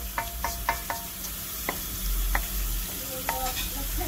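Vegetables cook in a pan for a vegan Ital dish under a dense, steady sizzle, with a few soft taps of a utensil against the pan and no voices.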